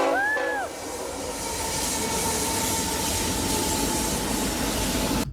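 A train rolls past with a loud, steady rumble of wheels on rails, and a short tonal whistle rises and falls right at the start.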